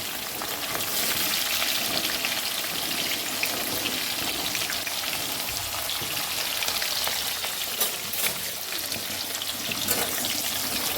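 Onions frying in hot oil with cloves, peppercorns, bay leaf, shahi jeera and cinnamon for egg biryani, giving a steady, dense sizzle that stays loud and close throughout, with no talking over it.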